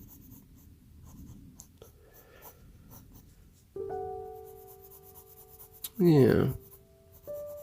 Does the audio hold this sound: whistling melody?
no